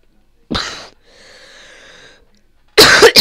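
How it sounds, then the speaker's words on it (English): A single harsh cough up close during an allergy attack, followed by a wheezy, whistling breath, then another burst of coughing at the end. "I don't like coughing."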